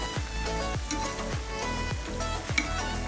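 Puff-puff dough balls fry in hot oil with a steady, close sizzle, broken by repeated stirring or turning scrapes, over quiet background music.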